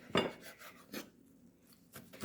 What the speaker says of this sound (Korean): 김치 이렇게 반으로 갈라서 좀 잘게 이렇게 썰어줍니다